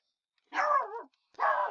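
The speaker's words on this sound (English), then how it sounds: "my dog just went crazy." A dog indoors barks twice in close succession, each a loud, near, yelping bark separated by a brief pause.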